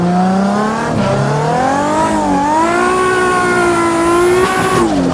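Engine of a drifting car in a driving video game, a loud continuous tone rising and falling in pitch as the revs swing through slides, with tires squealing underneath.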